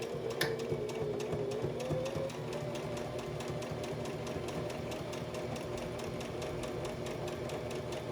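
A sewing machine stitching fabric along a pipe cleaner for a homemade face mask, its steady rapid needle chatter running continuously and close with no speech.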